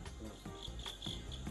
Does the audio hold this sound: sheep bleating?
no